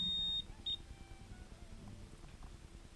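A Mastech MAS830L multimeter in continuity mode gives a steady electronic beep when its probes are shorted, followed by a second short beep over quiet room noise.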